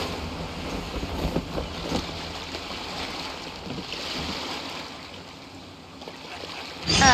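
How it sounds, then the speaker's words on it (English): Steady ocean waves wash along a Genshin Impact shoreline, a broad wind-swept rush with soft swells, continuous and moderately loud, with a brighter splash near the end. "Sound of the ocean waves"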